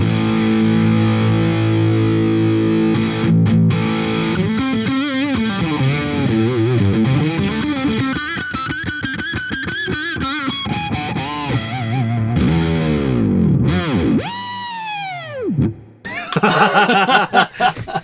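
Electric guitar played through a Victory V4 amp with the gain turned all the way up, heavily distorted sustained chords giving way to squealing bends and feedback-like sweeps, loud and continuous.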